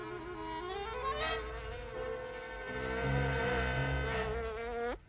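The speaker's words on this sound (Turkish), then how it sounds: "Defol, defol dedim sana pis sinek." A buzzing fly in a Smurfs cartoon, a steady droning whine that rises and falls in pitch as it darts around, loud and close, with low music or background tones beneath and a sharp upward sweep near the end.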